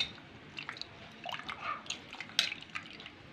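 Tamarind water, tomato and shallots are squished and mixed together by hand, giving soft wet squelches and drips that are close and faint, with no talking.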